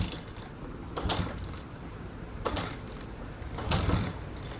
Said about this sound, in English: I usually have to kick start it. So I'm gonna give it about 4 or 5 kicks right here.